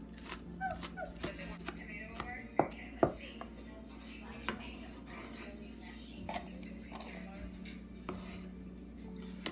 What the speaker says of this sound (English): For the green part, we just cut it thinner.